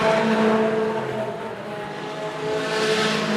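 Race cars, among them a dark grey VW Golf, roar along a circuit during a regional round, with steady engine noise near and loud and a slight swell toward the end, no talk.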